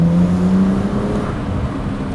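BMW 135i with the N54 engine pulling hard at high RPM in second gear, a steady loud engine drone with a rising tone, heard from inside the car.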